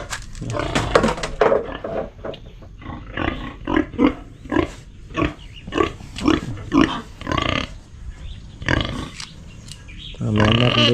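Pigs grunting in a pen on a farm, a close series of rhythmic, throaty grunts and snorts repeating about once a second, ending with a louder burst of noise.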